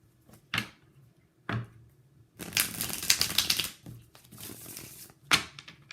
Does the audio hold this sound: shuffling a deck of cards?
yes